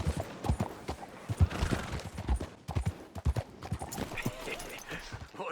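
Horse hooves clip-clop in Red Dead Redemption 2, a rhythmic run of hoof beats close by with a voice talking over them.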